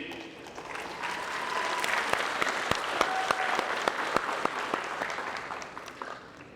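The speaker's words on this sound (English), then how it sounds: "Round of applause real quick for the fighters that made it." A crowd applauds the fighters at a boxing event, with a steady wash of clapping and sharp individual claps standing out, building slightly and then tapering off near the end.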